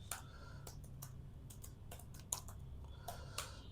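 Quiet keystrokes on a computer keyboard while working in a spreadsheet, irregular light clicks in short bursts with brief pauses, close but faint.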